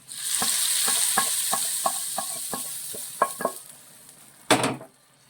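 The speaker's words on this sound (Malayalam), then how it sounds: "നമുക്കിത് നമ്മുടെ ദാൽ തടുക്കയുടെ മേളിലോട്ട് ഇട്ട് കൊടുക്കാം." Hot tadka poured over Pakistani dal fry sets off a loud, bright sizzle that hisses steadily, with a series of regular clinks from a spoon or pan, then a final burst of crackling.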